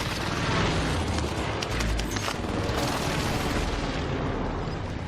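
Dense, continuous rumble of explosions and gunfire from a precision airstrike in a multiplayer shooter video game, loud and sustained throughout with layered booms and crackling blasts and no clear speech.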